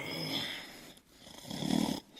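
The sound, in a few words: loud snoring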